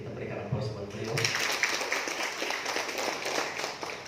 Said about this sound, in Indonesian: kita berikan aplaus buat beliau